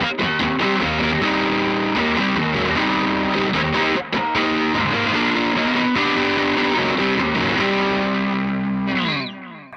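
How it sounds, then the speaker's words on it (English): Electric guitar through a Rat distortion pedal plays loud, thick sustained chords and riffs for several seconds, then cuts off and fades into a brief trailing noise at the end. "I simply turn off all that and just turn on the rat and a distortion pedal."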